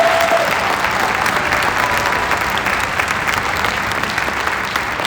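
Applause from a concert audience at an honor band performance, a broad, steady roar of many people clapping that holds at full strength throughout.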